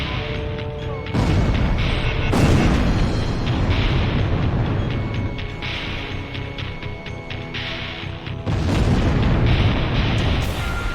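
A fighter jet takes an explosive hit in the Ace Combat Zero video game, heard as sustained loud booming blasts and roaring rumble with two sharp bursts near the start and end.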